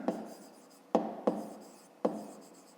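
Handwriting on paper during a fifth-grade math lesson, four short close taps and scratchy strokes spaced apart, quiet with no talk.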